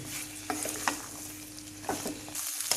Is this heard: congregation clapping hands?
no